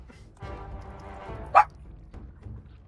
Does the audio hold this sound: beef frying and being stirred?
no